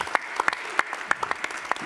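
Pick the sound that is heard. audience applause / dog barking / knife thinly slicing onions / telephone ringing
audience applause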